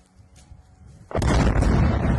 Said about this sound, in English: Lots of explosions and fires here in 9 seconds.